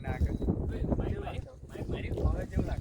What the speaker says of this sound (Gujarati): પવન બહુ જોરદાર આવે.